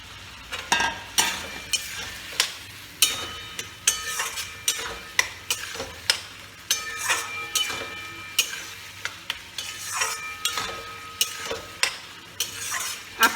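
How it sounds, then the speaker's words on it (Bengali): Potatoes frying in hot oil for shol fish curry, with a steady sizzle under repeated, rhythmic spatula scrapes and stirs against the pan, close and fairly loud with no talking. "এবার এতে আমি দেব আলুগুলো।"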